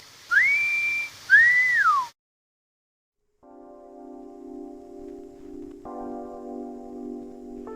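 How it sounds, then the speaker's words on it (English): A person whistling with the lips: two short, clear rising-then-falling whistled notes close to the microphone, followed by silence and then steady tonal music. "You know how to whistle, don't you, Steve? You just put your lips together and blow."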